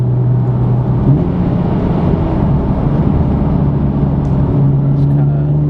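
From inside a supercharged car on the move, a steady engine drone rumbles, with its pitch dropping and climbing again as the gears change.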